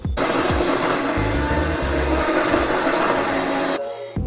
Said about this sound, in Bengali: নারকেলগুলোকে গ্রাইন্ড করে নিই।